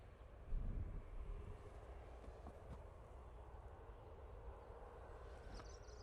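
A passenger jet taxis at Manchester Airport, heard from a distance as a faint, steady low engine rumble with a soft swell near the start and no voices.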